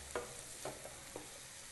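Onions frying with a pinch of salt for a mutton and drumstick curry, a soft, faint sizzle broken by three light stirring scrapes of a spoon in the pan.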